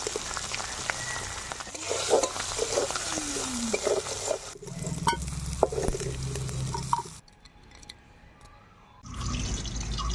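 Dried fish (shutki) frying in a pan gives a crackling sizzle with stirring and dripping, close by. The sizzle drops to near silence for a couple of seconds, then starts again.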